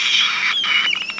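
A person imitating the shrill squeal of a bird of prey, compared to a red-tailed hawk and shown alongside a white-tailed eagle, a loud, strained continuous cry breaking into a few short pulsing squeaks at the end.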